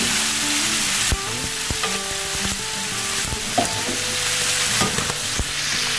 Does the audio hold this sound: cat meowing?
no